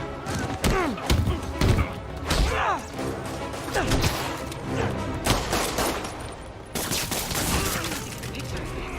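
Gunfire erupts in a Marvel's Spider-Man video game fight, bursts of shots and thumping impacts layered over game music and effects, with brief voices.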